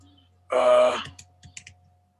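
A brief burst of quick keyboard clicks, then a few scattered taps trailing off, close by with a faint steady hum underneath.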